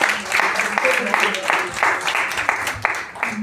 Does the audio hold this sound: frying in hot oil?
no